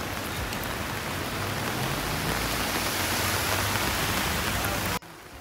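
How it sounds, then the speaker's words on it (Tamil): Steady outdoor rain, loud and close, a dense even hiss that runs unbroken before cutting off abruptly near the end, leaving a quieter background. "சாதாரண மழை தான் போடுறதுன்னு நினச்சிட்டேன்"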